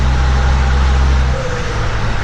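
A commercial vehicle's engine hums loudly through an open passenger window, then the low rumble drops and changes about halfway through as the gears shift, with road noise continuing throughout.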